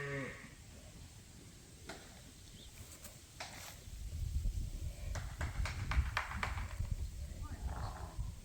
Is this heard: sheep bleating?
yes